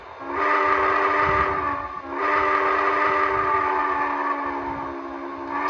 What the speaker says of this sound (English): That is the default whistle